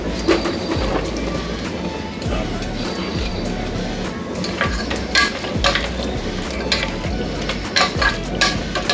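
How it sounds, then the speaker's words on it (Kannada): Thinly sliced radish stir-frying in a pan for a masala palya, a constant close sizzle broken by repeated rhythmic scrapes and clinks of a spatula turning the pieces. "ಈಗ ಇದಕ್ಕೆ ಕಟ್ ಮಾಡ್ಕೊಂಡಿರುವಂಥ ಮುಲ್ಲಂಗಿನ ಹಾಕ್ಕೊಳ್ಳೋಣ."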